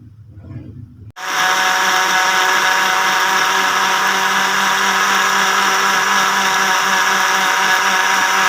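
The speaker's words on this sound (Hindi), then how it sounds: "दो मिनट के लिए ग्राइंड करेंगे।" A kitchen blender switches on after a brief quiet moment and grinds falsa berries with sugar and water, a loud steady high-pitched motor whine that holds without pause.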